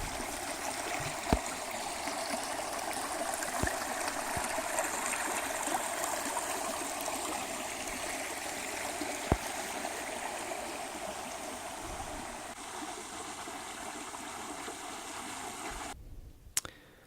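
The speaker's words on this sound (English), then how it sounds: "Here's a little creek that you cross about a half mile into the hike." A small creek on the Metacomet Trail runs over rocks in a steady, close rush of water with soft gurgles and an occasional sharp drip or splash, and no voices.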